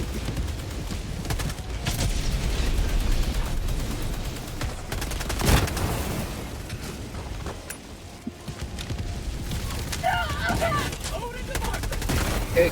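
Gunfire from Helldivers 2 rattles in dense, repeated bursts over a rumbling battlefield background, with sharp volleys around the middle and a steady drone throughout.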